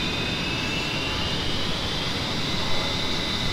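Twin jet engines of an A-10C pushed to full throttle in the DCS flight simulator game, a loud, steady, unbroken roar with a high whine on top, with no voices.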